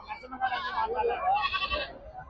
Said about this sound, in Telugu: ఇవి వచ్చి మేకలు